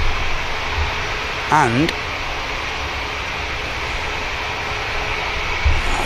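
An Icelandair Boeing 757 jet at Manchester Airport gives a steady broadband roar at moderate distance, with a brief voice and a rising-falling tonal whine partway through.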